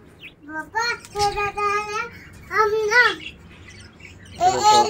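Chicks and pet parrots chirping indoors, with several bursts of bright, warbling squawks and tweets separated by short pauses, close and moderately loud.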